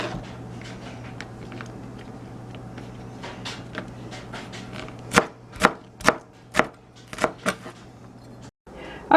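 Vegetables being chopped on a cutting board for Filipino pancit bihon, a run of about seven sharp, close knife strikes in a loose rhythm after a stretch of quieter kitchen noise.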